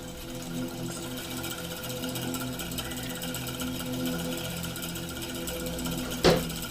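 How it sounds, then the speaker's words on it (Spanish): A simple homemade DC electric motor runs on a battery with a steady, faint mechanical whir and buzz, then a brief sharp clack near the end. "Entonces se ve que gira el motor."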